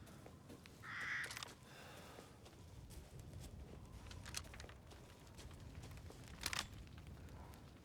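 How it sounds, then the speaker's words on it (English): Carrion birds caw in Resident Evil Village, with a few sharp calls rising briefly at about one second and again near six and a half seconds, set over a quiet, rumbling outdoor ambience. "There's just carrion birds over there."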